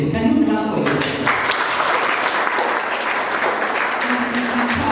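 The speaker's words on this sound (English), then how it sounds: "Can you clap for yourself?" An audience at a university campus thanksgiving event in Karen claps steadily and loudly, a dense wash of applause that carries on throughout after a brief opening of voices.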